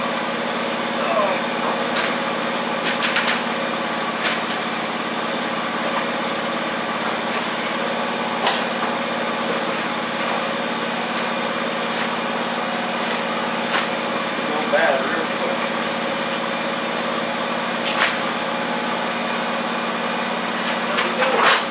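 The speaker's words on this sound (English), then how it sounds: "And the mower's outside warming up." A lawn mower engine idles steadily outdoors as it warms up, a constant close drone running the whole time with a few faint clicks and knocks on top.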